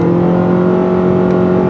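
A 2018 Mitsubishi Outlander SUV with a CVT automatic holding a loud, steady engine drone heard from inside, with a constant tone that stays unchanged and carries no talking.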